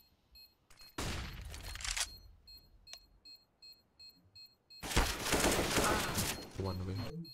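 Gunfire in the online shooter Counter-Strike: Global Offensive, two loud sustained bursts of shots with short beeps and small clicks between them and someone talking quietly in the background.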